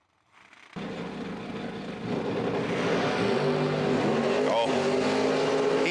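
Drag racing cars launch, with a Mustang in the right lane. Engines are revved and then roar loudly and steadily off the line, with the noise swelling and staying strong to the end, and a commentator talks over it.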